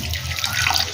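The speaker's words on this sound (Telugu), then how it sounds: "మిక్సీలో నీళ్ళు వేసుకొని ఉంది కదా" Water runs steadily for a moment, a continuous gushing pour into a mixer jar, fairly close and loud.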